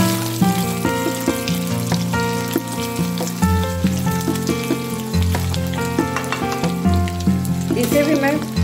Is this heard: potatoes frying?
yes